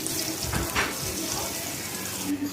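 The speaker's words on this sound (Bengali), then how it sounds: "এটাকে এভাবে কেটে লবণ মরিচ দিয়ে মাখিয়ে এটাকে তেলে দিয়ে দিব" Pumpkin slices coated in salt and chili sizzle and crackle in hot oil, a steady close frying hiss throughout the short stretch.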